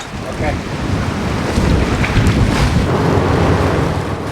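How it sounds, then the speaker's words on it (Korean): Rough sea waves and strong wind buffet the microphone near a fishing boat mending its nets, a loud continuous roar of surf and gusts with no talking. "점점 더 거칠어지는 파도가 걱정이네요"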